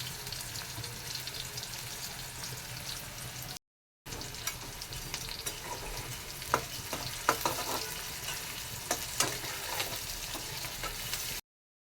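Turmeric and salt stirred into hot frying oil in a pan while cooking a chicken dish, giving a steady close sizzle with scraping stir strokes and a brief break partway through.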